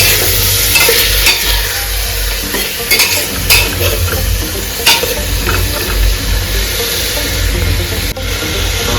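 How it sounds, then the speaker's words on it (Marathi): Vegetables and rice masala with tomato, capsicum and peanuts being stirred in a frying pan: steady loud sizzle throughout with repeated spatula scrapes and clinks close up, no talking. "हलवून देऊ थोडं."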